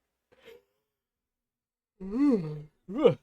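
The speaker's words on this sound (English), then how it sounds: "I had to yawn right as I was doing my introduction too" A faint breath, then a drawn-out vocal yawn rising and falling, ending with a short groaning exhale.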